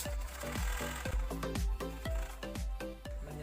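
A sewing machine stitching a shower curtain runs in a fast, steady rhythmic chugging of needle strokes, close and fairly loud with no speech.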